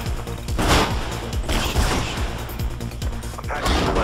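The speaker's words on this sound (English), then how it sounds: "I can hear gunshots" Rapid bursts of gunfire crackle and boom in the video game Mirror's Edge, loud and continuous with several heavier blasts across the span, no talking.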